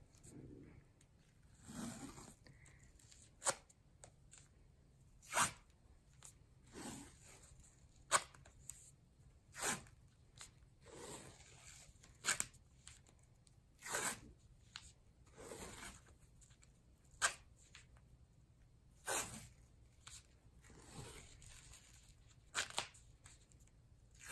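Athletic tape is torn in short, sharp rips and pressed onto an ankle, with cylindrical anchor strips securing the stirrups. The tearing and rasping bursts come close and fairly loud, repeating irregularly with brief gaps, and no one speaks.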